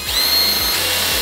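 A power drill whines at high speed as it drives a 1.5-inch stainless steel self-tapping screw into a PVC gate brace, the motor note steady and close, with short pulsing bursts as the screw bites.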